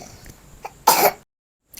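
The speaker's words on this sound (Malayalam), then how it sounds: "ആ ചുമ കാരണം ഇവിടെ നിന്ന് ചുമച്ച് ചുമച്ച് കേൾപ്പിക്കുകയാണ്" A single harsh cough bursts out close by, preceded by faint shuffling and followed by a short silence.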